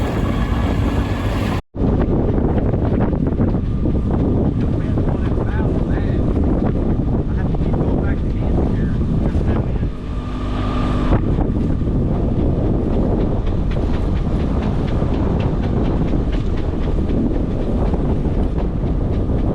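A sailboat is caught in a squall line with strong wind and rough, whitecapped seas. A loud, steady roar of wind buffets the microphone throughout, with only a brief dropout near the start.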